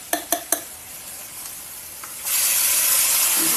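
Tomatoes for a pahadi paneer recipe drop into a hot pan, with three sharp clinks at the start and then a loud, steady sizzling hiss that continues to the end.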